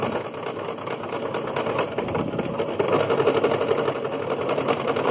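A sewing machine runs steadily, stitching bias binding onto sacking fabric and backstitching to secure the seam. The motor whirs continuously and close up, with no voices.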